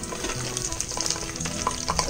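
An egg roll fries in oil in a pan with a steady crackling sizzle, faint pops and occasional clinks of stirring, close and alone.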